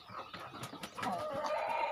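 A Kadaknath rooster of about 2 to 2.5 kilograms gives several short, close clucks in quick succession, followed by a slightly longer drawn call, with no talk.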